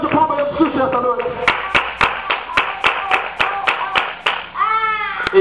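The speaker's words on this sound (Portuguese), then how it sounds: "Dá uma salva de palmas a Jesus essa noite." Church congregation clapping in a steady rhythm of sharp, evenly spaced claps, with a voice speaking over the opening and a brief tonal cry near the end.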